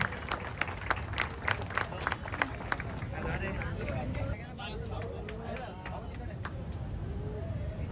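A crowd at a felicitation ceremony for a Thane Govinda troupe breaks into applause with scattered sharp claps at first, then a dense steady wash of clapping and crowd murmur throughout, with voices mixed in.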